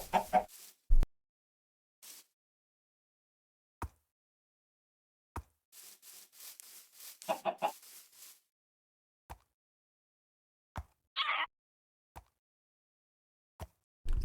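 Chicken clucks come in short bursts between sparse clicks and taps, fairly quiet, with long silent gaps in between.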